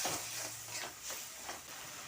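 Spice paste stir-fries in a pan for potol curry, a soft, quiet sizzle with repeated gentle scraping strokes of a spatula at a loose rhythm.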